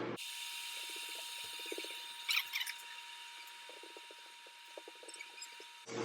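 Scissors snip a boy's dry hair in a quiet home haircut, with soft, close clicks coming in short irregular clusters over a faint steady hum.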